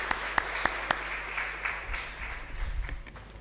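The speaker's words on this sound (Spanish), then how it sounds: "Y un fuerte aplauso para todos nosotros" A congregation applauds at the close of Mass in the San Blas chapel, soft scattered clapping with a few sharper claps near the start, fairly faint over a low steady hum.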